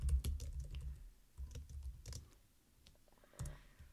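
Quiet keyboard typing: bursts of rapid key clicks with short pauses between them, close by and soft.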